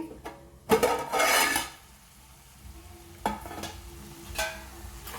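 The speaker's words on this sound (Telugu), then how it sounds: "ఐదు నిమిషాల పాటు లో ఫ్లేమ్లో అలా మగ్గనివ్వాలండి క్యాప్సికమ్ని" Capsicum cooking in a pan on low flame, with a burst of sizzling and a stirring scrape, then quieter clinks of a utensil against the pan. No one speaks.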